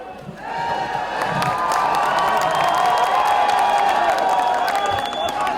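Large outdoor crowd at a film song launch event in Jaisalmer, Rajasthan, cheering, clapping and whistling loudly and continuously, with sustained high whistles over dense applause and shouts.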